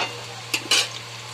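Onion sautéing in a pan for spiced tempered rice, heard as a soft steady sizzle under a couple of brief louder scraping stirs, close by and with no talk.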